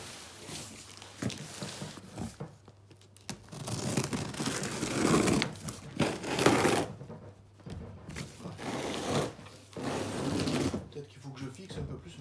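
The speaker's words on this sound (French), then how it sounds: "on va ouvrir le colis pour voir ce qu'il contient" A parcel being opened with crinkling, rustling packaging and some tearing, the rustles coming in bursts close by under a person talking throughout.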